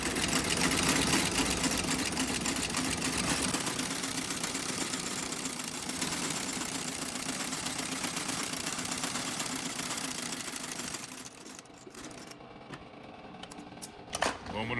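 Industrial sewing machine stitching a resole on a Tecovas leather cowboy boot, running steadily and loud for about eleven seconds before slowing and stopping, with a few faint clicks afterward.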